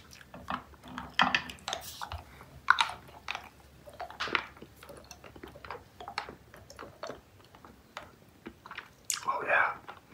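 Mamba fruit chew candy sticks being chewed close to the microphone, with soft wet mastication and crunchy bites repeating across the clip, a louder burst of chewing near the end, and faint whispery mouth sounds in between.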